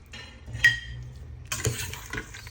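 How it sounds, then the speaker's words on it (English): Spices and herbs, turmeric among them, are stirred into an Instant Pot Pro's inner pot while it is switched off: a bright metallic clink, then a burst of close scraping and rattling of the spoon against the pot. "Stir the spices and everything in."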